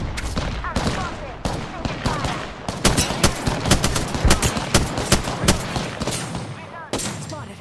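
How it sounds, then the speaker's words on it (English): Gunfire and an incoming airstrike in the video game Apex Legends, rapid bursts and sharp cracks in close, uneven volleys with heavy impacts, and a voice talking at times underneath. "We'll have to wait until this airstrike passes or they hit me."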